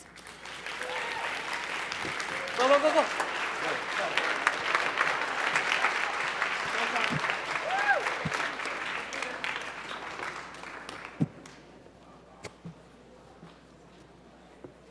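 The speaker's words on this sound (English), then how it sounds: "let's give a big, big round of applause to Furness" High school audience at Horace H. Furness High School applauding in a long, dense burst of clapping with a few cheers, then thinning out to scattered claps near the end; a voice calls out briefly.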